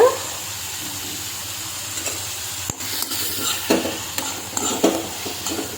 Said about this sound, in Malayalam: ഇളക്കി യോജിപ്പിക്കുക